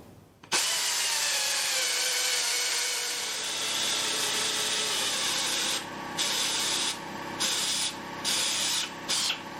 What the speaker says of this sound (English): you probably gathered from that drilling, this is quite thick